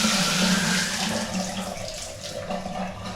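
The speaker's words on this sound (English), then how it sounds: "I'm gonna set the water over here. With this faucet." Water runs steadily from a faucet during a condo turnover in Fountain Valley, a loud, continuous close-up hiss and splash that eases off slightly toward the end, with no voices.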